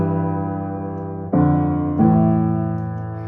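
Low piano chords from the left-hand part of a song, three sustained notes struck in turn with a fresh attack at each change, played close and alone without voices.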